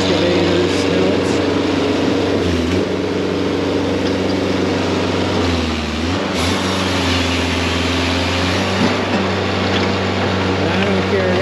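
A skid steer engine runs close by at a steady, loud, droning rumble, with a brief dip and rise in pitch partway through. A voice talks over it.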